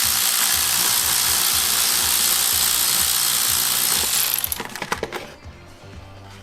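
Ratchet loosening 10mm bolts on the fuel rail cover of a BMW E36 engine: a loud, steady rapid clicking whir for several seconds, ending in a few separate clacks and a softer tail.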